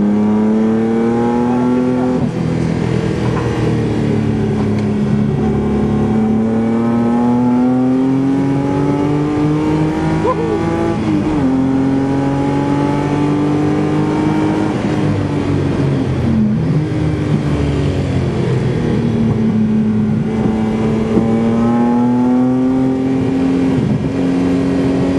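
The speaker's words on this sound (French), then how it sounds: "La Porsche bleue, ils sont en balade." Blue Porsche racing car at the Spa Classic historic race meeting, its engine droning loudly and steadily with rising and falling revs as it drives on for about 25 seconds.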